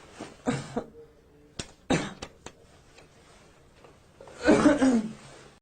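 Several short coughs and throat-clearing bursts at close range, separated by pauses, ending with a louder, longer rough cough.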